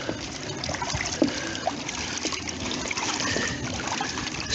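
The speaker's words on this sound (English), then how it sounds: "Let's stir it up again" Water in a crawfish boil pot is stirred, giving a steady close sloshing and trickling with occasional small splashes and no voices.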